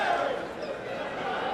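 Wrestling crowd booing Nick Jackson of the Young Bucks during a tag match, a steady, dense roar of jeers and chatter filling the arena throughout.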